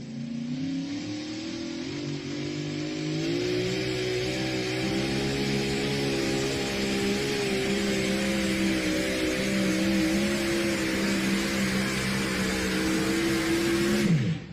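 The turbine tractor Leather and Lace makes a pull at a Mount Gilead, Ohio tractor pulling event, its turbine whine rising and then holding as a loud, steady, high-pitched scream for about fourteen seconds before cutting off.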